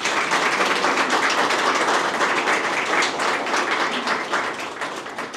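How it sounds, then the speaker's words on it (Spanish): Audience applause at a historical exhibition opening, loud dense clapping filling the room throughout, steady and close with no voices, easing slightly toward the end. "pido un aplauso para él"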